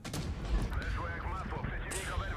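Tank gun shots in World of Tanks Blitz, a few heavy booming blasts with rumbling tails, heard under game sounds.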